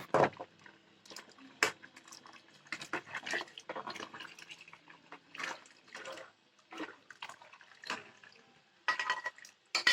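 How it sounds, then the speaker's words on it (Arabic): Milk is poured into a pot in uneven splashing bursts with small drips and clinks, close and fairly soft. "احط بقى اللبن."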